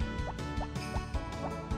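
Crops are watered in a farming game with a run of soft, rhythmic watery splashes and drips, about five evenly spaced, over light background music.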